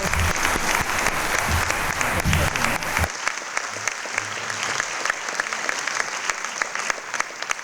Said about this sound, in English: And a lot of applause